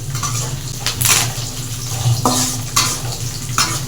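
Garlic, cumin, mustard seeds and curry leaves frying in hot oil, a steady close-up sizzle broken by several sharp bursts of spitting and crackling as the pan is stirred.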